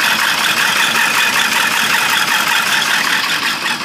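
A 1980 GMC with an Oldsmobile 350 diesel engine idles in a steady, dense rumble with a busy clattering texture, loud and close, with no voices over it.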